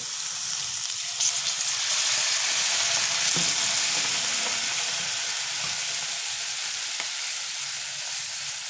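Onion and garlic paste frying in a pan as a little water is added, giving a steady, close, loud hiss of sizzling that holds through to the end, with no talk over it.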